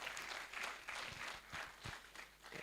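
Audience applause at a conference, a steady spread of many hands clapping that swells and dips over a few seconds, moderately loud and close, with no voices over it.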